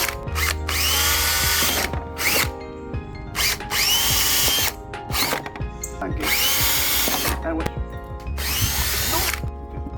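A power drill drives screws to join two splitter pieces for a BMW F10 535i. It comes in four loud, close whirring bursts of about one to two seconds each, with short pauses between them.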